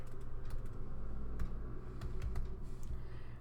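Quiet, scattered keystrokes on a computer keyboard over a low steady hum, faint and fairly close.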